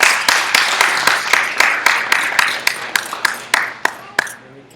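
Applause at a Sanctuary Academy of Universal Enlightenment gathering, heard as a series of sharp, evenly spaced claps close by rather than a dense crowd roar, slowing and fading toward the end.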